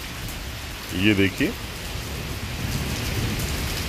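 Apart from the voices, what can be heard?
torrential rain in Islamabad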